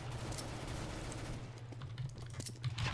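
Rapid bursts of FAMAS rifle fire crackle in a first-person shooter game, with dense automatic shots growing busier toward the end over a steady low background hum.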